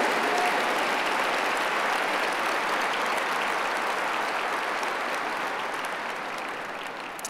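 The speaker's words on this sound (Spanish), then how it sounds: "Vamos a darle el mejor aplauso de este domingo" Sunday church congregation applauding during a Spanish-language service, sustained full clapping from a large crowd that stays strong and fades a little near the end.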